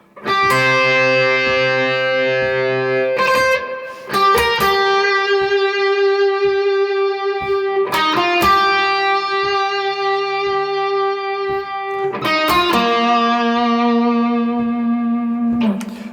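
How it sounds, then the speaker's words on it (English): Sustained electric guitar chords played slowly with heavy distortion and a lingering reverb tail, each chord ringing out loud and alone before the next. "I've got quite a lot of gain on it and a big like kind of spring reverb"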